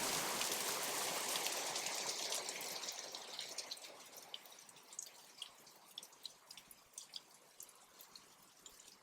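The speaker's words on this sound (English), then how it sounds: "it's pouring." Heavy rain pours outside as a steady, hissing wash, then thins out into scattered, distinct drips and splashes near the microphone. No one speaks.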